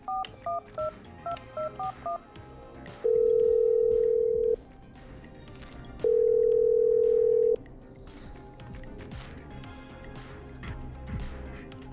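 Telephone dialing in the video game Killer Frequency: a quick run of clear DTMF keypad tones, then two long steady ringback tones separated by a pause, loud and close over a low ambient background with no talking.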